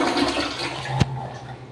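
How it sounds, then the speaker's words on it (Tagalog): A toilet flushes in a short, close rush of water, with one sharp clunk of the handle midway through the gushing. "Nag-flush na ako."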